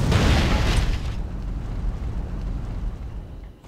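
A bomb explodes in the action game Majin and the Forsaken Kingdom: one loud, close boom with a rumbling tail that fades over a few seconds, with no voices.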